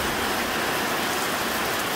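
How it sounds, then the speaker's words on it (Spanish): Daytime rain pours steadily in Chalatenango, El Salvador, a dense, even hiss of falling drops that stays loud and constant throughout, with no talk. "Pero sorprendido porque está lloviendo de día."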